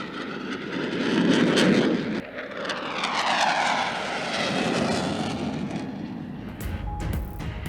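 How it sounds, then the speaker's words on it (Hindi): JF-17 Thunder and F-16 fighter jets fly over Islamabad in an air display, a loud sustained engine roar that swells and fades as the aircraft pass overhead, with no talk. "इस्लामाबाद की फिजाओं में लड़ाका तैयारों की घनघरज।"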